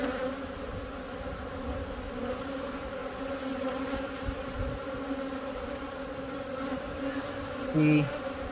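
Honey bees buzz steadily and densely throughout a hive inspection, a close, continuous drone with no talking.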